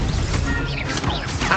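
A Confringo spell strikes during a wizard duel in Hogwarts Legacy, a loud, dense burst of crackling, crashing impact noise that fills the whole moment without pause.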